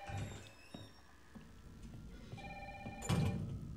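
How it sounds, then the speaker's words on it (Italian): A telephone rings in Resident Evil 3, set in Raccoon City, heard as a brief electronic ring amid low game ambience, then a louder rising burst near the end; nobody speaks. "Dove cazzo sta sto telefono?"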